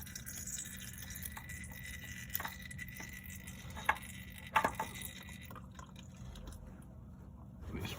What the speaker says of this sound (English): There'll be a lot of oil that comes out.